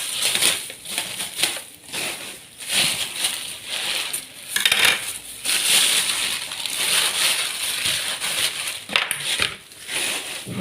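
Scissors cut open plastic bags packed around salted fish, giving a continuous busy crinkling and rustling with quick snips and crackles, close up and without speech.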